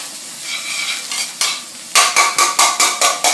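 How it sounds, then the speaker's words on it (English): Vegetables sauté in a hot pan for a steak Diane sauce. A steady sizzle runs throughout, and near the end a utensil stirs and scrapes in a quick repeating rhythm, loud and close. "The veggies are being nicely sauteed"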